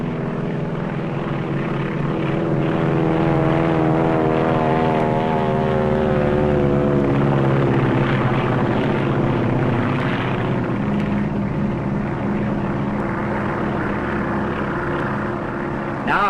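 An L-1 light propeller airplane flying by, a loud, sustained droning engine with a rising and falling pitch as it passes close, heard alone throughout.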